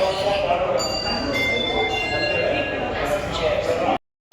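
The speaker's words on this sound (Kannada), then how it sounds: "ಯಶವಂತಪುರ ರೈಲ್ವೆ ಸ್ಟೇಷನ್ ಇದು" A train rumbles and clatters at Yesvantpur railway station, a loud, steady roar with thin, high metallic squeals riding on top, and a voice speaks over it before the sound cuts off abruptly.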